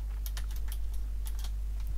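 Code being typed on a computer keyboard, rapid irregular key clicks close up over a steady electrical hum.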